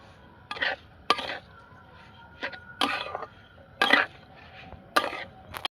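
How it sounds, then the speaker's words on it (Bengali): A spoon stirs a coconut and sugar filling for patishapta in a pan, producing repeated scraping strokes spaced about a second apart, close and moderately loud against a quiet background. "এবার আমি নাড়াচাড়া করতে থাকবো"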